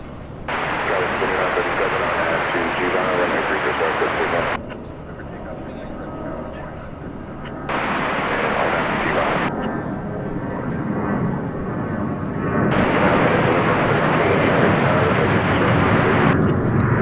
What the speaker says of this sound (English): Dallas Aviation loves the sound of tri-jets.